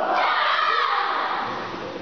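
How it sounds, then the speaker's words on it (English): A group of children yelling a ninja battle cry together during a school field day, one loud, sustained shout lasting about two seconds that tapers slightly at the end. "Now let's be ninjas. Let's yell quiet."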